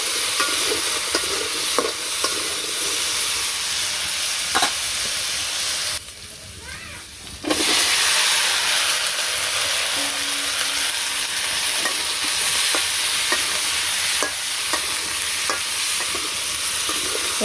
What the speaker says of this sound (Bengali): আলুগুলো লাল লাল করে ভেজে সবজি দিয়ে দেবো